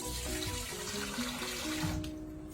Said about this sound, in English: I'm going to put in some water